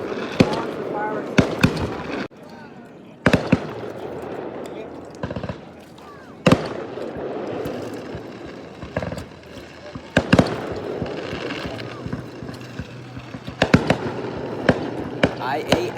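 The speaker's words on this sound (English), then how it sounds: "We're on for fireworks." Fireworks burst during a Fourth of July weekend celebration, with a run of sharp, loud cracks and booms at irregular intervals, some rapid clusters and crackling between, plus faint voices in the background.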